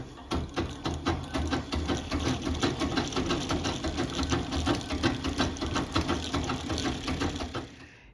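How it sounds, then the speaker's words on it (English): A Singer Model 15-30 sewing machine runs with its handwheel disengaged to wind a bobbin, giving a rapid, steady mechanical clatter with an even rhythmic pulse, close and loud, for about eight seconds. "I undo the clutch knob that it's the end so that the wheel will spin freely, and then I can go ahead and get started winding the bobbin."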